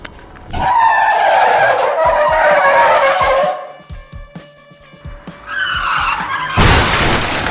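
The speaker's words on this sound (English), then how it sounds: "The road was slippery, and he lost control of his car." A car on a slippery road skids with a long, loud tire squeal, followed by bangs and thuds of a crash, then a second screech and a sharp burst of impact noise at the end.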